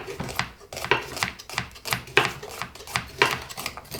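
A knife chops carrots on a cutting board while a finger-guard gadget shields the knuckles; about ten crisp, evenly spaced chops land close up in a steady quick rhythm with no talking.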